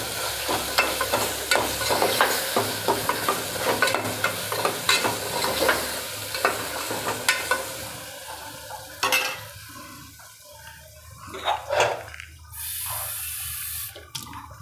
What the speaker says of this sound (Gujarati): હવે આ બધું મિક્સ સરખી રીતે કરી દેવાનું